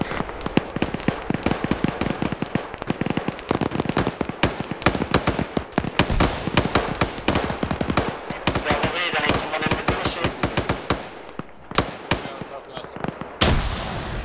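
Rapid, loud gunfire and bursts of frag grenade explosions fill a military video game battle, dense cracks and booms overlapping almost without pause, with voices talking faintly beneath.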